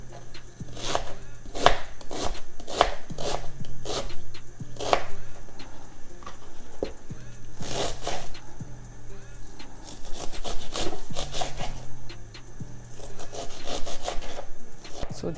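A knife chopping washed onions and peppers on a board, with rapid, steady cutting strokes repeating close up, pausing briefly between runs, no talking.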